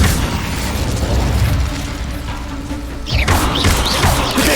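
An Incendio fire spell cast in Hogwarts Legacy, a loud whooshing burst with rumbling impacts and crackles that swell again into a second flaring blast.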